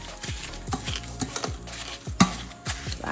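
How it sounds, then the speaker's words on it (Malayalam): Peeled bananas and sugar pounded with a wooden stick for home-made avil milk, making steady, evenly spaced soft thuds, about two per second, close and moderately loud with faint scraping between strokes. "അപ്പോൾ പഴമൊക്കെ തോലി എടുത്ത് കളഞ്ഞു, അതിലേക്ക് പഞ്ചസാര ഇട്ട് കുയലിട്ട് കുത്തുന്നു."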